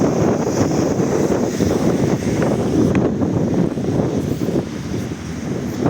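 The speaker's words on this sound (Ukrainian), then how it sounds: "Вітер, сильний вітер." Steady strong wind during a snowfall on a Lviv street, rushing and buffeting the microphone, a continuous loud roar with no talking.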